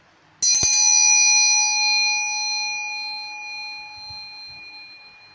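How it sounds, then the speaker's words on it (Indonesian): A single bright bell strike rings out loudly and clearly, then slowly decays with a long shimmering tail in near silence. "ditandai dengan lonceng berbunyi"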